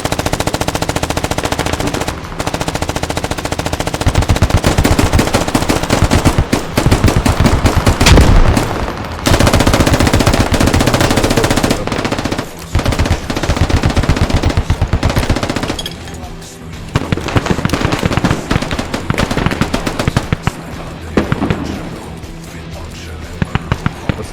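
Heavy machine gun fire in combat during an infantry assault, long loud sustained bursts rattling almost continuously with brief pauses, with voices shouting under the shooting.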